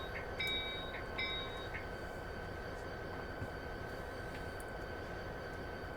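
A freight train rumbles through the Donner Pass route in the video game Train Simulator 2019, a constant low drone with a couple of short horn-like tones early on, and no talk.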